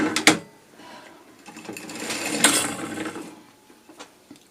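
A sock knitting machine is cranked back, giving a loud ratcheting mechanical clatter at the start, then a run of softer whirring and clicking needle and gear noise that tapers into scattered ticks.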